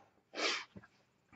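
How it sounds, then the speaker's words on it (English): One quick, breathy sneeze bursts out close by, followed by a short sniff or snort and then quiet room tone. "And I'm going to sneeze."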